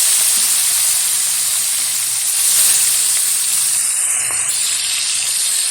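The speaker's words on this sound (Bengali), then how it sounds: "এখন আস্তে আস্তে করে তেলের মধ্যে ছেড়ে ভেজে নেব সুন্দরভাবে মাছগুলো।" Pieces of bhetki fish fry in hot oil, producing a loud, steady hiss and sizzle that runs evenly throughout, with no talking.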